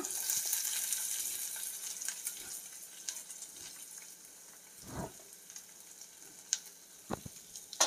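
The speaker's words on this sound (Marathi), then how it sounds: "आता आपण कांदा टाकूया." Chopped onion sizzles in a hot pan of oil for a spinach and dal dish, a steady close frying hiss with a few scattered clinks and stirring knocks.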